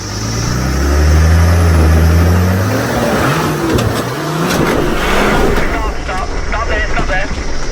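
A 4WD engine revs hard as the vehicle climbs a steep off-road track, a loud rising drone that swells and then gives way to rougher mechanical clatter and bumps.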